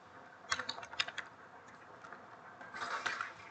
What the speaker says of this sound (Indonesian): lalu ketikkan nama filenya